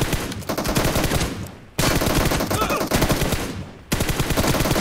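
Automatic weapons fire loudly in PUBG Mobile in three long, rapid bursts, with each stream of shots separated by a brief pause.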